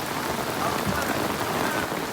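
Heavy rain falls in a thick, unbroken rush of drops on the surfaces nearby.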